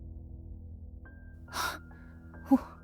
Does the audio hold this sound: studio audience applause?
no